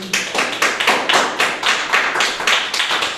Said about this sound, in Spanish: Vamos a darle un aplauso a la palabra de Dios.